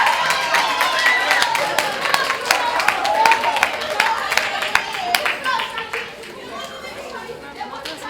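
Students and adults clapping at a middle school gathering, scattered sharp claps over loud chatter and children's voices, thinning out toward the end.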